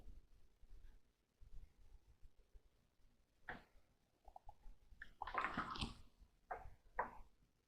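Beef stew with vegetables is stirred in a slow cooker, making soft wet squelches and sloshes in short bursts that grow denser toward the end, quiet and close.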